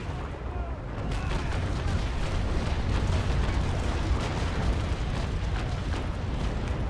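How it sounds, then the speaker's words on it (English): Ship's cannon broadside firing in the naval sailing game Naval Action, a long rolling barrage of overlapping booms and cracks that merge into a continuous thunderous roar. "100 meters convergence, aim for the waterline, and fire."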